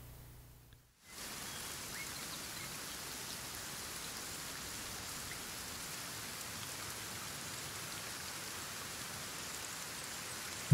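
Steady rain in the video game Kenshi hisses in a dense, even wash after a brief quiet start, continuing unchanged and moderately soft with no voices over it.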